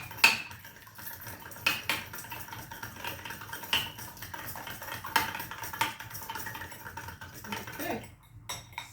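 Eggs are beaten with a small whisk in a bowl, producing rapid irregular metallic clinks and taps against the side, moderately close, with a brief quieter pause near the end.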